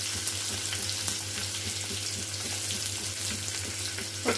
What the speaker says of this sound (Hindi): अब इसके अंदर हम डालेंगे प्याज।